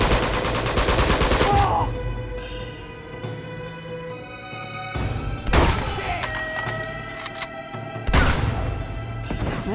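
Enemy gunfire in Uncharted 2: Among Thieves, loud clattering bursts of shots at the start, again mid-clip and near the end, separated by quieter stretches of game music and ambience.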